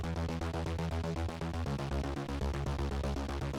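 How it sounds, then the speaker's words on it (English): A dense, loud synth bass line with pulsing low notes that shift pitch every so often, playing continuously with other thick layers on top and no speech. "We have our bass line."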